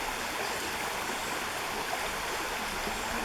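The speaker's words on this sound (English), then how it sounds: "And this is Fishhook Creek," Fishhook Creek rushes by in a continuous, even hiss of flowing water on a ranch, close and moderately loud, with no talking over it.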